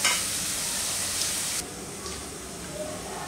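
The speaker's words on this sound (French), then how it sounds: "laisser notre sauce tomate bien cuire" Tomato sauce for fonio gras cooks in a pot with a steady, bright sizzling hiss that drops a little in level partway through and then carries on evenly.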